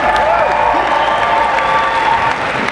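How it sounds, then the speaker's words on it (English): Convention crowd at a comic con panel applauding the ASL interpreter, loud sustained clapping with some cheering mixed in, holding steady for the whole stretch. "A round of applause for our ASL translator here."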